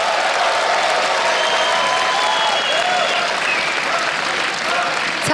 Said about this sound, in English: Давайте поаплодируем немножко,